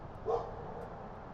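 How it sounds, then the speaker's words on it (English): A neighbor's dog gives a single short, distant bark over quiet outdoor background hum, and then no more barking follows. "Now the neighbor's dog's barking at me."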